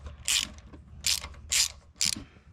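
A ratchet loosens a 10 millimeter bolt on an Acura during belt and AC compressor work, giving four crisp, loud clicking bursts in quick succession, close up, with no talking.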